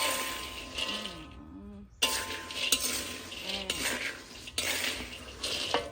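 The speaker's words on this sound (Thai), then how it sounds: "ปีนี้นะคะ ก็ก็จะค่อยคั่วไปนะคะสำหรับนะกระบอกนั่นเอง" Kabok wild mango seeds dry-roasted in a pan while being stirred, close scraping and rattling of seeds against metal in repeated strokes, with brief pauses and a faint voice in the background.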